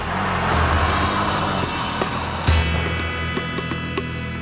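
A car races off, its engine droning steadily at close range with a few clicks and knocks partway through, and no voices over it.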